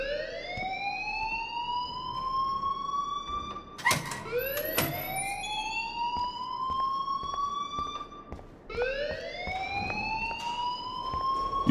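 A fire alarm rings in the video game Life is Strange, rising sweeps repeating steadily and loud, breaking off briefly near the four-second mark among clattering noise before the sweeps resume.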